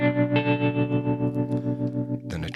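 Electric guitar run through a BOSS GT-1000 Core modulation effect with the rate turned down, a sustained distorted chord pulsing and wavering rhythmically, then a fresh strum near the end.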